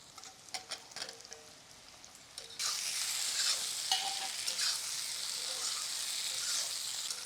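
Crab with tomato and potato is sautéed in a pan, first with a few clanks of the spatula, then with a loud, steady sizzle and stirring that continues to the end.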